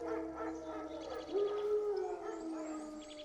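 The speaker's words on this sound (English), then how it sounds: "Wolves? No. Wild dogs." Wild dogs in The Witcher 3: Wild Hunt howl and yip in the distance, a rising drawn-out howl joined by higher whimpering cries over a low ambient hum, with no talk.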